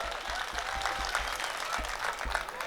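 Audience clapping at a Hindi comic poetry gathering, a steady patter of many hands filling the room for a few seconds, moderately loud with a faint voice underneath.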